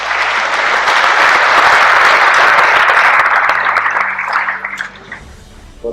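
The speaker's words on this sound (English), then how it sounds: "give them a round of applause" Loud applause from an audience at a Hall of Fame induction, dense clapping swelling and holding for several seconds before tapering off.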